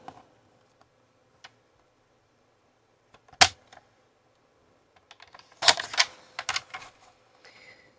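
A paper trimmer slices a card sentiment in a few quick, crisp scraping cuts, preceded by scattered soft clicks and taps of paper and tool against a quiet room.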